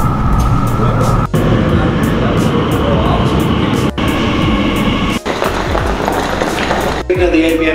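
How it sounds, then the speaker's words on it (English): Loud, steady rumble of an Elizabeth line train in an enclosed underground station in London, with a few sharp clicks cutting through and a recorded announcement voice over the noise. "This train is now ready to depart."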